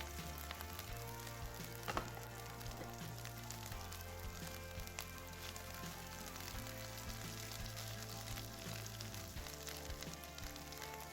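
Steady sizzling of chicken frying in a pan, a continuous crackle throughout with a low hum underneath, no voices.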